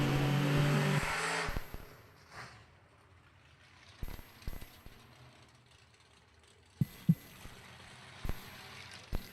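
A race car does a burnout at the Laris Motorsports Insurance 250K drag race, opening with a loud, close engine roar that drops off after a second or so, followed by scattered sharp pops and clicks over quiet background.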